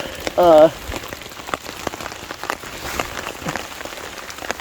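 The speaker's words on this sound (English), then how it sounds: "It started raining at 4 a.m. and it was just started off as a light rain" Morning rain falling steadily on an underground bushcraft shelter in the woods, a continuous close patter of drops, with a brief voice near the start.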